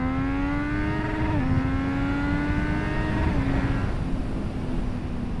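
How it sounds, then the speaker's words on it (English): A Triumph Street Triple motorcycle screams up through the revs and bounces off the second-gear rev limiter, a loud, close, rising engine whine that holds and stutters at the top before easing off. "I hit second gear rev limiter because I just want a little more RPM."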